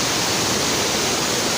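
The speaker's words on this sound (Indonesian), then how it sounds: "Ini dia Curug Kembar atau Curug Sejoli" The Curug Sejoli twin waterfall on Mount Kayangan roars with a loud, steady, broadband rush of falling water, continuous and close, with no voices.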